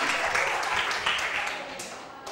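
Students in a Thai secondary-school health class clap together, a dense, steady burst of applause filling the room for a couple of seconds and tapering slightly at the end.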